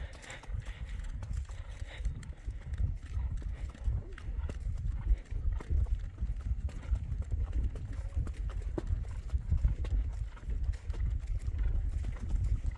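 Horse hooves clip-clop in a steady walking rhythm at moderate distance in Peru, with low rumbling background and faint voices talking underneath.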